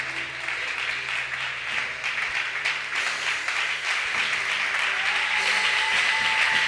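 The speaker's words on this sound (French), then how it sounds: "tu peux mieux acclamer le Seigneur" A church congregation applauds and cheers for Jesus during a worship service, a dense, steady wash of clapping that swells slightly toward the end, with faint voices beneath it.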